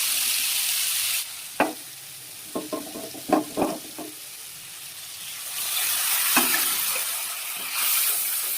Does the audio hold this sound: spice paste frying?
yes